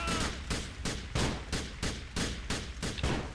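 Rapid bursts of loud gunfire in the video game GTA: The Lost and Damned repeat in a steady rhythm, close and dense, like automatic weapons firing back to back, with no voices.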